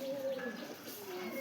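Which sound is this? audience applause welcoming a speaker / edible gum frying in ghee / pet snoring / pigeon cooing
pigeon cooing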